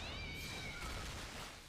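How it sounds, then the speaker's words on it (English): A single faint, drawn-out cat meow rises and falls over soft background noise. "Meow, by the way."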